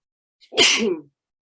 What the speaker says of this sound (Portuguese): Para variar, eu espirro sempre